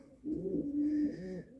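A Horseman pigeon coos in an aviary, one close, throaty rolling coo lasting just over a second and rising out of quiet.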